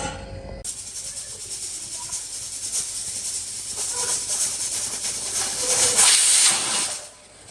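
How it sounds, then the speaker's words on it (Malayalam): Pressure cooker on a stove cooking tapioca, giving a loud, continuous steam hiss that builds gradually and peaks in a sharp, strong burst near the end before cutting off. "കുക്കറിൽ നമുക്ക് അടുപ്പത്ത് വെച്ചിട്ട് ഒന്ന് വേവിച്ചെടുക്കാം"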